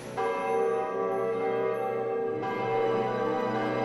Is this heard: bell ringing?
yes